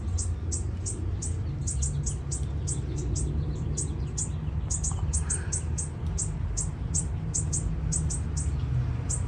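High, quick bird chirps from a peach tree in a spring backyard garden repeat steadily over a low outdoor rumble, with a couple of soft thumps and no talking.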